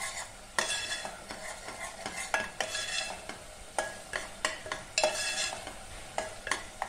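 Tomatoes and ginger-garlic paste fry in oil in a pan while a spoon stirs them repeatedly, sharp scraping strokes recurring over a steady close sizzle with no voices.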